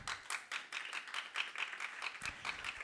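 A church congregation claps for the Lord in quick, rhythmic, even beats, moderately close and filling the moment without speech.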